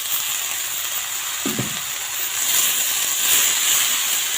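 Jute leaves hit hot oil with turmeric in a pan, a bright steady sizzle hissing throughout with a short clattering burst as the greens drop in, close and alone.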